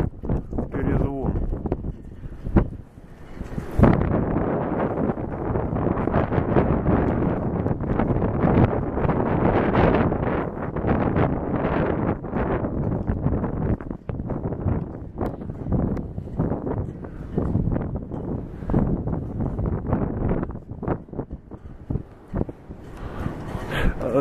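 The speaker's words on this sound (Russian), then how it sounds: "на этих флагштоках ветрило такой дует" Strong gusting wind buffets the microphone in an open square by flagpoles in Baltiysk, a roaring, rushing noise with rattling bursts running throughout while someone talks over it.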